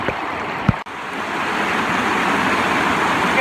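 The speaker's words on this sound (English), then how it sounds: "I'm yelling because the water's so loud here." Loud, fast-flowing water on the Stamp River, a constant broad rushing roar close by, with a brief knock near the start and no voices.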